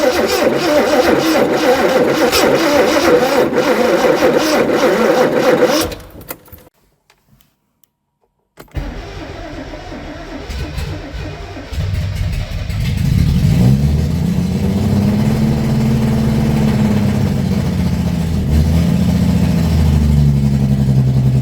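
A Morris 2200 barn-find engine runs loudly, drops into a brief silence, then comes back and revs hard at full throttle with a rising, straining drone, close and dominant.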